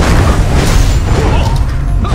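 Heavy booms and mechanical clanks from a siege cannon launching huge cannonballs during a castle defense battle in the online game ArcheAge, a loud, dense rumble of repeated impacts and bursts without pause.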